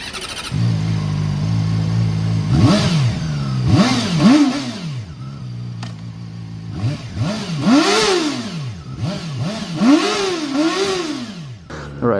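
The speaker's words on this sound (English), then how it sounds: "Let's just hop on the bike and rev it up." A ZXMOTO 500F inline-four motorcycle revs repeatedly, its sharp rising-and-falling blips climbing high and dropping back over a steady idle, loud and close with no talking.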